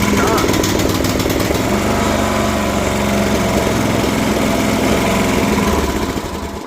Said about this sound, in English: turn on choke and do that halfway, and then start